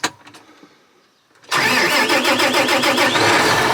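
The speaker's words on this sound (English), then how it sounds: "We'll let the tractor warm up for a few minutes" A farm tractor engine cranks and catches after a brief quiet, then settles into a loud, steady, slightly rough idle while warming up, close by and alone.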